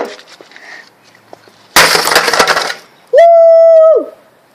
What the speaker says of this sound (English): I broke glass.